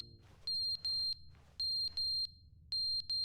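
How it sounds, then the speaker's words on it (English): Fire alarm in The Stanley Parable: Ultra Deluxe beeping in three bursts of three to four loud, high, steady electronic tones, each roughly a third of a second, with short gaps and a quiet low hum underneath. "The fire alarm, it's beeping."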